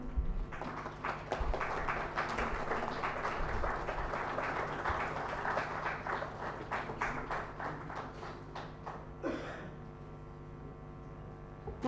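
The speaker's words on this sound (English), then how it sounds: "Big round of applause for Professor Tiwari." Sustained applause from an audience at an inauguration ceremony, many hands clapping steadily for around nine seconds before tapering off to near quiet.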